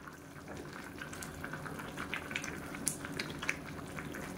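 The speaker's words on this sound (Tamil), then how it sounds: "இப்போ நல்லா கொதிக்க ஆரம்பிச்சிருச்சு" A pot of mushroom biryani simmering at a steady boil, with a continuous soft bubbling and occasional louder pops, close and fairly quiet, with no voices.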